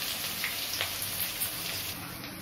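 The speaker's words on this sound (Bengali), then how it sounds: "এবার তেজপাতা, গোটা জিরে, রসুন, পেঁয়াজ" Bay leaves, whole cumin, garlic and onion fry in hot oil for a chicken biryani, giving a steady soft sizzle and crackle heard close up without talk.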